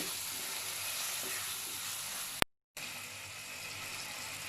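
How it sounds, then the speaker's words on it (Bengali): Mutton liver and potatoes sizzle loudly while being sautéed in spiced masala in a pan, a steady frying hiss with light stirring, broken by a brief dropout. "খাসির কলিজা। ভালো করে কষিয়ে নেব।"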